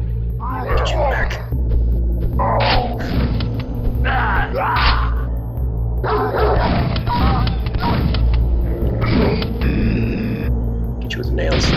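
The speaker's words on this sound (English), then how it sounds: "Another dog." A dog enemy in Quake barks and growls in short repeated bursts over a low rumbling background, with someone talking throughout.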